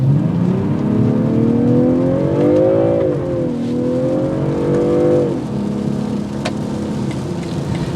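A 2022 BMW M340i in sport mode accelerates hard, its exhaust note climbing steadily in pitch through a gear, dipping at a smooth shift, then pulling again before easing off, close and loud with no talk.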